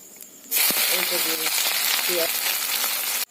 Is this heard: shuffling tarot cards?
no